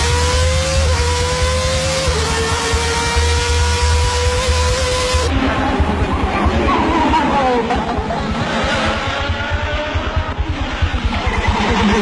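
Ayrton Senna's McLaren Formula 1 car on a 1988 pole lap at Monaco, its engine screaming loud and continuous with pitch sweeps through upshifts and downshifts.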